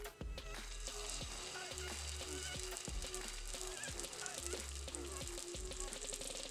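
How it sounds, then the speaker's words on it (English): Buns of parotta dough fry in a generous amount of oil on a hot tawa, giving a steady, close sizzle and crackle that continues throughout, with a few soft clinks or taps. "Place about 4 buns on the tawa because you want them to be in the direct heat."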